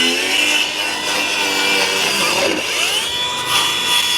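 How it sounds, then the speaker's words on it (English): A power saw, likely a reciprocating saw, cuts straight across the wood of a shed being torn down, giving a loud, steady whining buzz with shifting pitch that runs close and unbroken throughout. "I'm gonna try to make a nice cut all the way across here"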